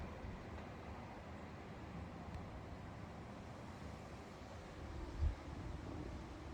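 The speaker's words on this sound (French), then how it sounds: "j'entends encore le vent dans la forêt, dans la montagne en tout cas" Strong foehn storm wind roaring steadily through a mountain forest, a constant low rumbling rush with a brief louder gust near the end, heard alone without voices.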